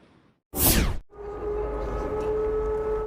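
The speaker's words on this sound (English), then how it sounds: "Air raid sirens are an almost daily disturbance for the southern Russian city of Belgorod." A sharp whoosh gives way to a steady, droning air raid siren in the Russian city of Belgorod, holding a sustained tone, fairly loud and continuous.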